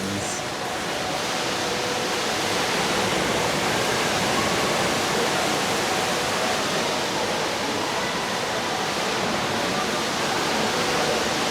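The Rain Vortex, an indoor waterfall of collected rainwater at Marina Bay Sands in Singapore, pours as a dense, steady roar of falling water that fills the space evenly from start to finish.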